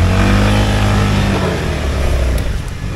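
A Honda ADV 350 scooter engine revs loudly and close up, roaring steadily with a slight rise and fall in pitch for a few seconds.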